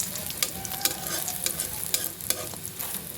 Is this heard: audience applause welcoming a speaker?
no